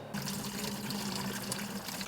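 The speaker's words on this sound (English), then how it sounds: "I'm gonna drain the water" Coolant water draining out of the bottom drain of an aftermarket radiator on a Mitsubishi Evo 8, a steady close splashing trickle with no pauses.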